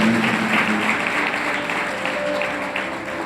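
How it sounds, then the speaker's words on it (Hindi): Congregation clapping during a Sunday holy communion service, steady dense applause from many hands sustained throughout, loud and close with a faint voice beneath. "तालियां बजाकर महिमा करें।"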